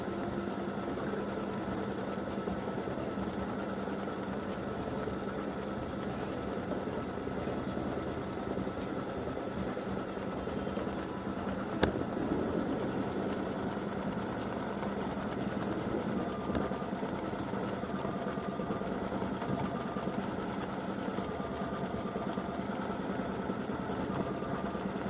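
An embroidery machine stitches the first layer of freestanding lace for a gingerbread house earring set, a steady even whirring drone that holds for the whole stretch, close and moderate, with one small tick midway and no voices.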